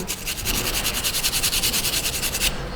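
Rust is scrubbed off the rear brake caliper bracket of a Ford Taurus, a loud, close, rapid rhythmic rasping of quick back-and-forth strokes that stops abruptly near the end.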